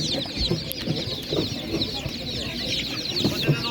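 Hens cluck and chatter in a busy animal market in Ivano-Frankivsk region, Ukraine, with overlapping calls throughout and faint voices mixed into the bustle.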